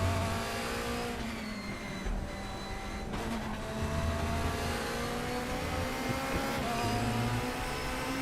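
A Corvette GT2 race car engine revs in the RaceRoom racing game at Imola, its tone climbing and falling through gear changes in a continuous, fairly quiet drone, with no voices.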